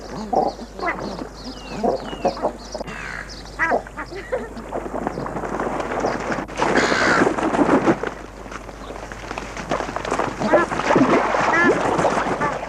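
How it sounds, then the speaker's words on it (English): Hundreds of water birds crowd a park's central pond at feeding time, a dense, continuous clamor of calls and squawks from many birds at once, building louder toward the end. "central pond of the park is home for hundreds of water birds"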